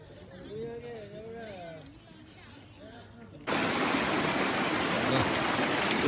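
A person talks briefly, then loud water gushing from a stone spout on the route to Muktinath, Nepal, starts abruptly and keeps up as a steady, close, broadband rush.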